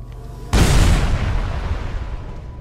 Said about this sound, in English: I'm gonna shoot it from a distance